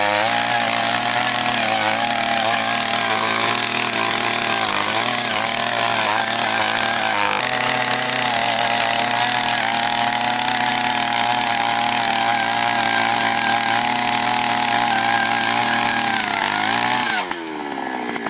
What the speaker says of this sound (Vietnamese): Bây giờ chúng ta hãy cùng khoan với chiếc mũi khoan có đường kính là 200 mm.